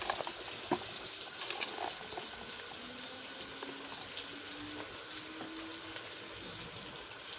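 Vegetables, spinach and cowpea leaves, being washed in soda water under a running kitchen tap, a steady faint hiss of water with a few splashes and clinks near the start.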